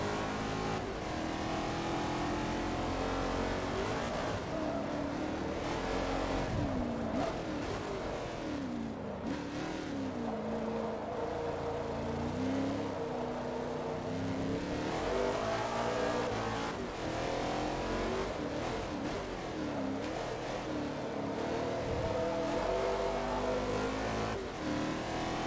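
Ford GT40 and Ferrari 330 P4 race cars in Forza Motorsport 2 run a continuous loud engine roar, with the revs climbing and dropping through gear changes and throttle lifts, steady throughout and with no talk.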